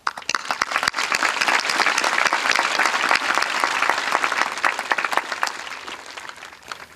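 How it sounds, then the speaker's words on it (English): Graduation ceremony audience applauding the teachers, a dense and steady roar of many hands clapping at once for the full stretch and tailing off slightly near the end. "let's give a little round of applause to our teachers who've always stood by our sides,"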